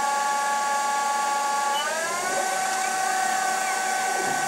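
A Denford Orac CNC lathe turns a V8 cylinder at 830 RPM, giving a loud, steady machining whine with tonal harmonics that bend and shift partway through, with no talk over it.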